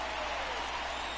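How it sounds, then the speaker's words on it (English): Crowd ovation in the MLB The Show 19 baseball video game, a steady wash of applause and cheering from the fans at a near-constant level throughout, with no voices standing out. "It's a good get ovation from the crowd"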